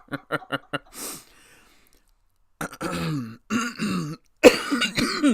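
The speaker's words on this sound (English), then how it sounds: "I apologize if I blew anybody's ears out with that cough." A few quick throat-clearing coughs open, then a pause, followed by a harsh, loud coughing fit close to the microphone.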